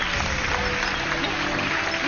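Studio audience on a France 2 word game show breaks into dense, steady applause, a continuous wash of clapping heard up close with no speech on top.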